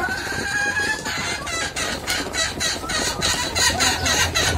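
Chickens being fed finely chopped medicinal leaves cluck in quick, busy bursts close by, with soft pecking and rustling throughout and a higher call at the start.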